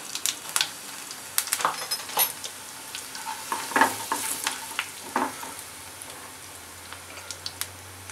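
Cumin, coriander and a pinch of asafoetida crackling in two spoons of hot mustard oil for stuffed bitter gourd, a close sizzle with scattered pops and a few clinks of a spoon against the pan, no speech.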